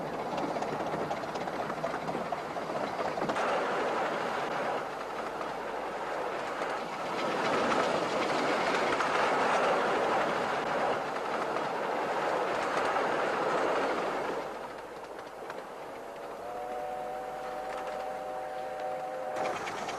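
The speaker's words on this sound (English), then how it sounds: "the very first time you ride the train, you realise what Captain Hythe was getting at." A miniature railway train on an 8.5-mile line rumbles along the track with a continuous rolling roar and faint clickety-clack, heard from on board, with a brief tonal squeal near the end.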